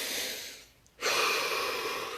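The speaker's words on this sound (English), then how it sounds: "Take a deep breath" A slow, deep human breath taken up close: a soft airy exhale fades to a brief pause, then a strong, steady inhale fills the rest.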